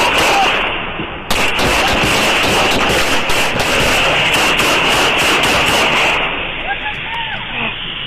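Gunshots fired during a police traffic stop, a loud, dense burst of rapid cracking reports heard close on a body-worn microphone, partly clipped, with shouting voices mixed in.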